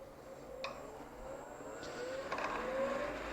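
A wood lathe spinning while a skew chisel cuts the workpiece gives a steady mechanical hum, with a few brief scraping contacts and a rising whine as the tool bites toward the end.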